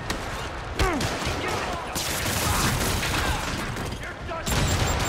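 Rockets fired at Spider-Man in Marvel's Spider-Man, loud whooshing launches and booming rumbles with a descending whistle, continuous blasting and debris noise, while a voice speaks over parts of it.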